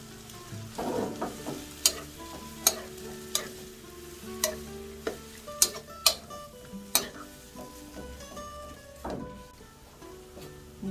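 Spiny lettuce stir-fries in a pan with perilla oil, water, garlic and green onion, sizzling softly under sharp, irregular scrapes and taps of a utensil stirring against the pan.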